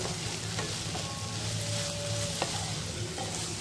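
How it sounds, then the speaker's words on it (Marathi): Red masala with chili powder being stirred and fried for egg ghotala, a steady close sizzle of frying paste with scraping spoon strokes and soft clinks against the pan throughout. "ते सर्व आपण एकजीव करून घेतलेलं आहे, परतवून घेऊया"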